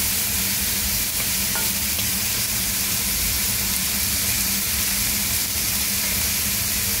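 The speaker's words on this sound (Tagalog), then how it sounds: "Halo-haloin yan" Pork adobo with chicken wings sizzles in a pan while being stirred, a loud continuous frying hiss with faint scraping of the utensil and no talking.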